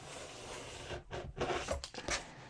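Scissors chew through thick denim in a few rough, crunchy snips, close up and moderately loud with short pauses between cuts.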